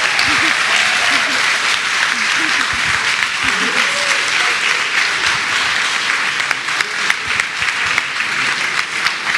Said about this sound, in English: let's give him just one more round of applause